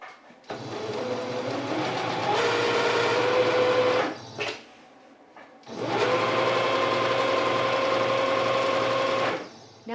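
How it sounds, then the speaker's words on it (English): A sewing machine stitching the folded top and bottom hems of a fabric valance, two long steady whirring runs of several seconds each with a brief pause between, loud and close, with no talking. "we are going to sew them."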